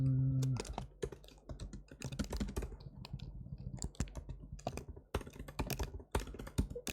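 Rapid typing clatters on a sticky computer keyboard, close and dry, with irregular bursts of keystrokes and short pauses continuing throughout, no talking.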